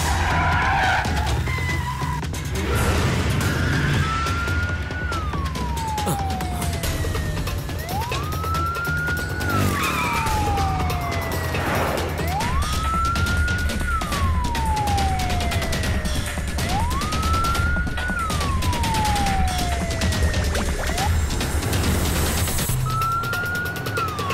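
An ambulance siren wails, rising and falling in slow repeated sweeps, loud and continuous, over engine and traffic noise with tires skidding.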